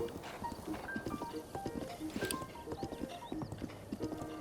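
A horse ridden in Zelda Breath of the Wild clip-clops at a quick steady gallop, hoofbeats up close, mixed with a brief neigh and soft game music in the background.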